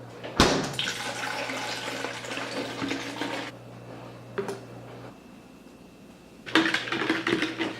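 Water pours steadily into a container of pressed lemon juice for a few seconds, pauses, then a second pour splashes in near the end; close and fairly loud.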